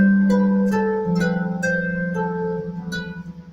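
Solo harp improvising in a baroque flamenco style over a fixed structure, plucked notes struck every half second or so over a sustained low bass line, near and clear, no talking.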